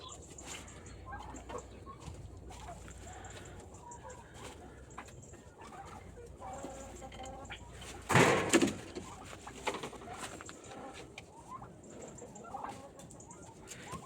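Chickens cluck and murmur softly in the background, and a rooster's loud squawking call bursts out about halfway through.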